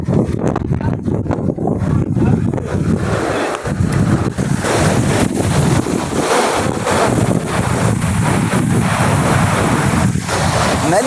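Floodwater rushes across flooded cotton fields after torrential rain in a loud, continuous roar of churning water, mixed with gusty wind noise and no talking.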